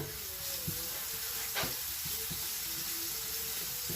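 Garlic cloves sizzle in hot oil in a pan, a steady, close crackling hiss running without a break.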